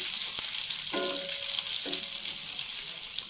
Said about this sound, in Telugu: పసుపు కూడా కొంచెం ఆయిల్లో వేగనివ్వండి